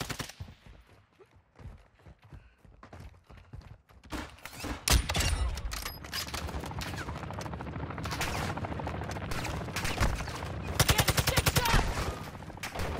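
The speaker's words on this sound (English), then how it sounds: "Taking effective fire!" Dense gunfire fills a Call of Duty: Modern Warfare II battle: it starts sparse, then rapid automatic bursts and booming shots sound loud and close, building into heavy sustained fire toward the end.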